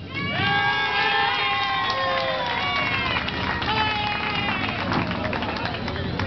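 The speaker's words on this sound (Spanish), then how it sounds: "Aplausos para la moto de Tony." A crowd at a motorcycle gathering cheering, whistling and applauding a motorbike during a popular vote: loud sustained shouting and clapping from many people, with a voice speaking over it.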